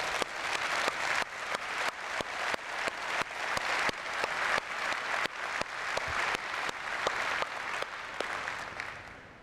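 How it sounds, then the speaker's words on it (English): A keynote audience at a 2018 public sector summit applauds for Chad, a dense, steady burst of clapping with sharp individual claps in a regular rhythm, holding level for several seconds and then thinning out at the end. "Please join me in applauding Chad and sending our Zotters across the country some love."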